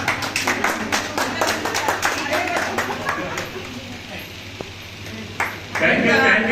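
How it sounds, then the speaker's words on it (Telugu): An audience at a felicitation ceremony for senior Pyramid meditation masters claps in a rhythmic patter that fades out, with people talking over it. "క్లాప్ కొట్టండి"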